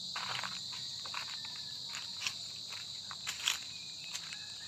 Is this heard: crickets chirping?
yes